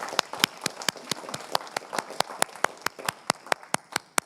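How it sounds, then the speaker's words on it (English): Audience applause at a programming conference talk, sparse and fairly distant with individual claps clearly distinguishable in a steady patter throughout. "let's get applause again"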